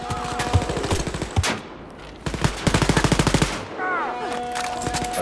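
Gunfire in the Wolfenstein Youngblood video game, with scattered single shots and then a rapid burst of automatic fire, loud and close, followed by electronic game sounds, with no talk.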